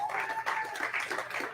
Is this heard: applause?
yes